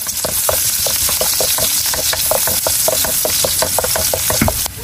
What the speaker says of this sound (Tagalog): Magigisa na po ako ng bawang,